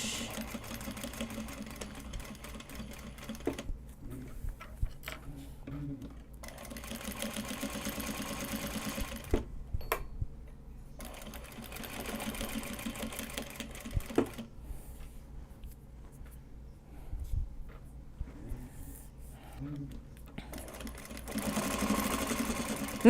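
Sewing machine stitching card holders made from Japanese fabric, in close bursts of rapid mechanical whirring broken by pauses and small handling clicks.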